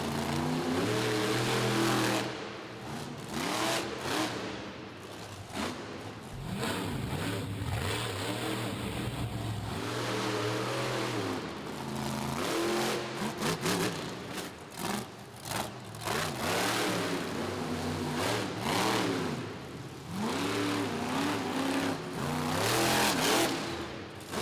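Jack Brown's monster truck roars through a freestyle run at the Toughest Monster Truck Tour in Rupp Arena, Lexington, its engine revving hard again and again, with deep rising and falling surges and brief throttle lifts, loud and close throughout.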